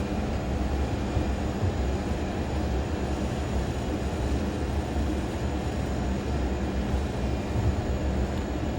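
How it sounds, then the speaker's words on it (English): A Learjet 35A taxis at idle thrust with a continuous low engine rumble and faint whine, steady and unchanging throughout, with no talking. "look at how nicely the airplane rolls in idle thrust"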